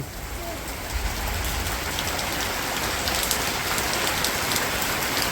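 Steady rain falls on surfaces in a rural village in the morning, a continuous dense patter with no breaks.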